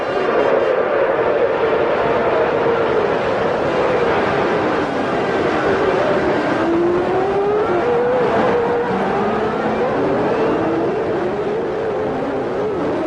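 Formula One cars at the start of a 1993 race, a loud, dense roar of several high-revving engines with rising and falling pitches as they accelerate away and pass.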